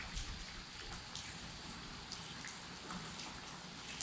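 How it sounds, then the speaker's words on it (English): Steady heavy rain from a tropical storm falling and splashing on surfaces, a dense hiss of drops that stays even throughout, fairly quiet and distant. "It's been raining for 2 days"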